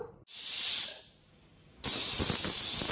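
Beef cooking gives off bursts of loud hissing steam, a strong spray that swells, dips to a softer hiss, then surges again sharply and holds steady.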